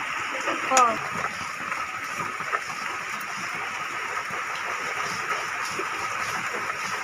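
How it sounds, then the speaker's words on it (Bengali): Heavy rain falling outside on a rainy day, a constant wide hiss of downpour that holds steady, with a brief voice and a small knock early on. "বাইরে হলো প্রচুর পরিমাণে বৃষ্টি হচ্ছে।"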